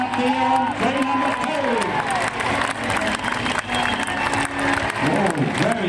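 A crowd cheers and applauds at a woodchop tree felling competition at the Sydney Royal Easter Show, with dense, continuous clapping and shouts throughout, mixed with an announcer's voice.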